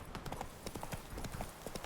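Horse hooves clip-clop in a steady trot on a road in The Witcher 3 video game, a brisk, continuous rhythm of close, moderately loud hoof strikes with no talk over them.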